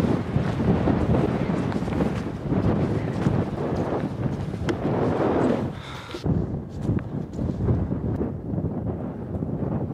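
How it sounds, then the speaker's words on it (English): Strong wind buffets an exposed hillside above a forest, a constant loud roaring rush with gusty surges and microphone buffeting that eases slightly toward the end. "It's quite windy."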